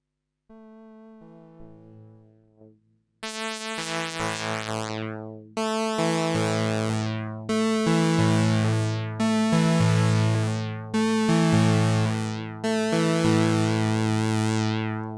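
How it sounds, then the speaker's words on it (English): A Sequential Six-Trak synthesizer plays a pulse wave under pulse width modulation: a quiet low tone first, then repeated loud bright notes, each starting with a burst and sweeping downward in timbre, close and alone. "But that can be controlled by pulse width modulation. So let's try that, parameter 13."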